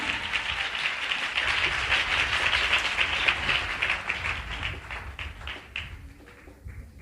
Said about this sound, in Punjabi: ਇੱਕ ਵਾਰ ਜ਼ੋਰਦਾਰ ਤਾੜੀਆਂ ਵਜਾਵਾਂਗੇ ਯਿਸੂ ਮਸੀਹ ਦੇ ਲਈ, ਜ਼ੋਰਦਾਰ ਤਾੜੀਆਂ